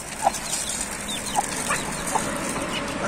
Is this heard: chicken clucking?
yes